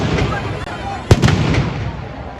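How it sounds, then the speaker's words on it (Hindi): Firecrackers burst around a Dussehra Ravan effigy amid a loud, noisy crowd, with one sharp crack standing out, a few smaller pops right after and voices talking throughout. "पैरों में जितने पटाखे फोड़ लो"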